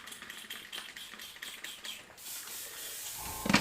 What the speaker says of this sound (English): I'm not getting that soft spray I want